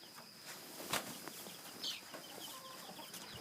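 Chicks in a small pen chirp and cluck faintly in a few brief calls, alongside light rustling and footsteps close by.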